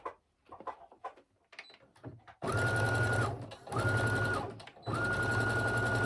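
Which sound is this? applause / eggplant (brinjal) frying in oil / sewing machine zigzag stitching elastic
sewing machine zigzag stitching elastic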